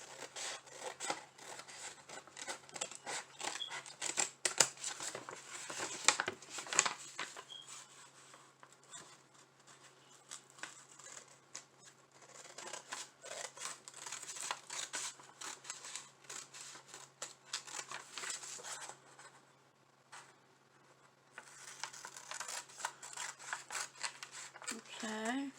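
Scissors snip along the seam of a dollar-store craft piece, a run of close, dry cutting and rubbing sounds with a few louder bursts and brief pauses, faint and uneven throughout.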